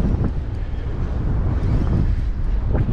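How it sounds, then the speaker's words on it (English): Strong wind buffets the microphone during squid fishing on the water, a loud, continuous low roar with gusty swells and no other clear sounds. "Oh, this wind is strong."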